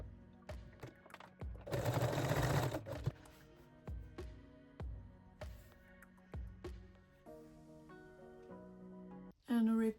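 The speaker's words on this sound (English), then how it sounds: "sew them in a place with a straight stitch" A sewing machine runs a straight stitch along garter belt straps in a short loud burst, followed by a series of sharp rhythmic clicks and taps, close and clear.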